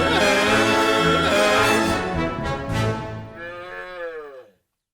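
A kazoo-style novelty farm song where a cow moos, a loud drawn-out lowing over dense backing music that fades out near the end.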